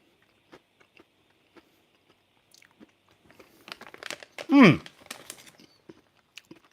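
Crunchy nuts being bitten and chewed close to the microphone, a cluster of crisp crunches with one louder bite in the middle, surrounded by sparse small clicks and rustles.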